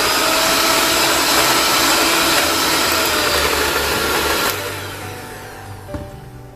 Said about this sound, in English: Whisk them.